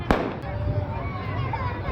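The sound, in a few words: firecrackers bursting at wedding procession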